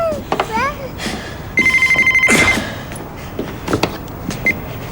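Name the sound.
telephone ringing before being answered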